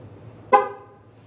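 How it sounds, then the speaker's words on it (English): A single short electronic beep, sharp and tonal, sounding once over a quiet low hum and fading quickly. "Push the button. Then you're going to hear a beep."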